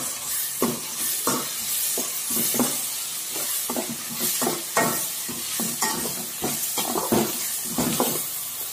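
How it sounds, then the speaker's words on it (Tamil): Chopped tomatoes sauté in a pan for a cashew egg gravy, a bright steady sizzle under rhythmic spatula scrapes and stirs that recur every second or so, close and fairly soft, with no voices. "இப்போ இந்த தக்காளியை இப்போ வந்து சேர்த்து வதக்கிப்போம்."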